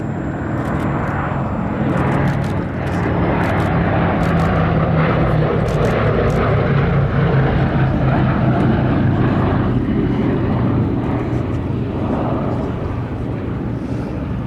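B-17 Flying Fortress bomber with four piston engines flying over Duxford during the Battle of Britain Air Show, a steady loud propeller drone sustained throughout with a faint voice in the background.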